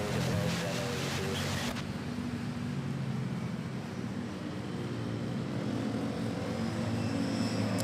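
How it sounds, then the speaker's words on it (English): A Cebu Pacific Airbus A320 airliner on final approach at Manila Airport produces a steady loud engine roar and rumble that holds throughout, with a sharper noise change early on. "we have a Cebu Pacific final approach, A320 arriving from CDO"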